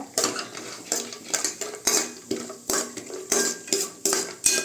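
Cashews and almonds roasting in a pan for carrot sago payasam, stirred with a spoon in a quick regular rhythm of about two scraping clinks per second over a faint sizzle, loud and close.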